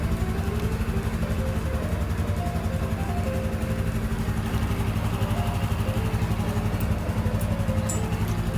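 A 2018 Honda Super Cub motorcycle engine idles steadily nearby, a continuous low throbbing putter that holds an even level throughout.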